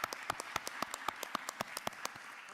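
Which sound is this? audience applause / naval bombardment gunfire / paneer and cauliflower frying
audience applause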